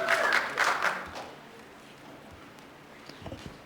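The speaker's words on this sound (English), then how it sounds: "the woman in the back with the hat with the orange writing, you've been warned for clapping" Scattered audience applause at a city assembly meeting, a short burst of clapping at the start that quickly fades into quiet room tone with faint stray noises.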